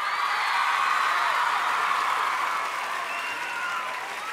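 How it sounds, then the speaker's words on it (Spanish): Steady, dense applause from a studio audience at the official premiere presentation of the telenovela Esperanza Mía, holding loud and even throughout with a slight fade near the end. "Un aplauso,"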